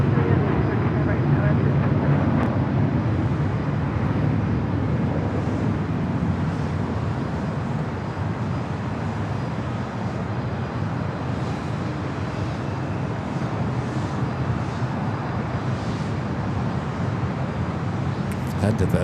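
A 777 freighter at Los Angeles LAX airport produces a continuous loud, broad jet roar that holds steady for the whole stretch, with wind buffeting and muffled voices mixed in.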